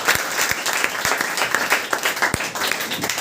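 An audience at a Class 10 school prize-giving bursts into dense, sustained applause for a girl who topped the maths test. Irregular louder claps stand out against the steady clapping throughout.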